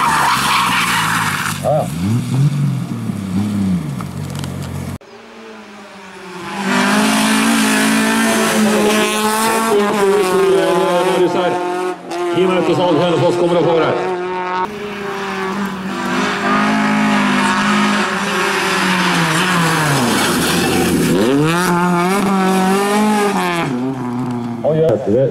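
A race car at a Norefjell hill climb skids and squeals its tires while its engine revs hard in long, loud bursts, with commentators talking over the noise.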